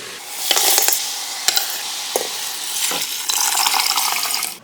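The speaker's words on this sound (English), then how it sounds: "Now give that all a good stir." Rice, beans and water being stirred together in an Instant Pot, a close run of soft scraping and sloshing with a few sharper knocks of the spoon against the pot, steady and alone with no talk.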